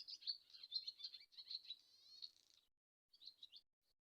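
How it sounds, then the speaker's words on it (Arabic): A swallow sings a quick, high twittering song of rapid chirps and trills, clear and near, then falls briefly silent before a short final burst of chirps. "هذا طائر الخطاف"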